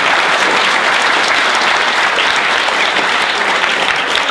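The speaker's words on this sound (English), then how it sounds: "And that needs another round of applause." A dense, steady burst of loud audience applause for cartoonist Bob Mankoff at a talk at Yale, sustained evenly throughout with no speech.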